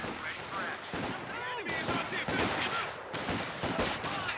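Company of Heroes 2 battle with crackling small-arms and machine-gun fire and a grenade launch, dense overlapping shots and bursts mixed with distant thuds and whistles, while a voice commentates over the action.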